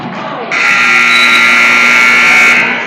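A basketball game buzzer at a high school varsity gym, one loud sustained electronic blare lasting about two seconds and cutting off abruptly.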